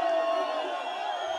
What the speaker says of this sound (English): Dancing and cheering after Robert Mugabe's announcement of resignation